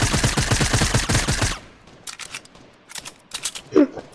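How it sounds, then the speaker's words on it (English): Rapid automatic gunfire from Fortnite rattles in a dense, loud burst while an enemy is shot, then cuts off, and a few scattered sharper shots follow. "I'm about to go shoot him now."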